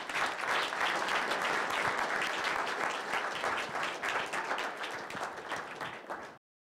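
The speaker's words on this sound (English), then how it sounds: "Let's give them a round of applause." A room audience at a business plan review session breaks into loud, continuous applause that holds steady for several seconds before cutting off abruptly.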